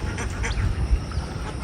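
Ducks at a village pond, giving a quick run of raspy quacks over faint background noise in a very short burst.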